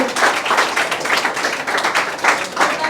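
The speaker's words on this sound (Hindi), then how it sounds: "रोशन कुमार के लिए ताली बजाया जाए" A classroom of chemistry students claps for a classmate, dense, steady applause from many hands filling the room without pause for the whole stretch.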